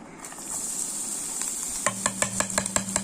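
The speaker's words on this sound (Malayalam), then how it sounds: "ഈ പാൻ ചൂടാക്കിയിട്ട് ഒരു രണ്ട് സ്പൂൺ വെളിച്ചെണ്ണ ഒഴിച്ച് ഇതെല്ലാം വഴറ്റിയെടുക്കാം" Beef and potato mixture sautés in coconut oil in a hot pan. A soft sizzle runs throughout, and partway in a series of quick, rhythmic scrapes and taps from stirring joins it up close.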